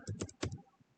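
A few quick keystrokes on a computer keyboard tap out in a short, faint burst of close, crisp clicks.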